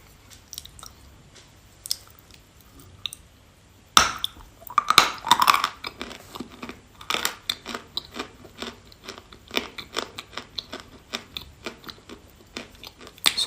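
Dry chalk being bitten and chewed up close: sharp crunchy snaps, then many rapid, irregular crunches and squishy grinding that keep going to the end, with no talking.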